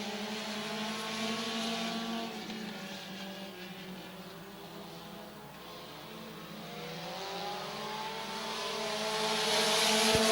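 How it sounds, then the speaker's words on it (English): Stock cars racing around a speedway oval, engines droning together at steady pitch as the pack passes, swelling louder and nearer toward the end, with no voices. "Halfway home, Marcus Cox, your race leader by a nose, but here comes Gavin Roop"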